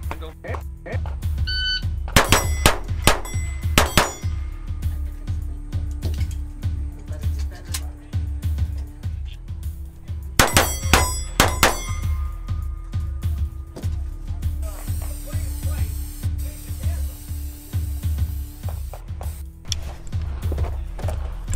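Pistol shots strike steel targets at a Steel Challenge match, the Florida State Championship, in two quick clusters of sharp cracks with short metallic ringing after each. Voices talk between the strings, and a constant background hum runs underneath.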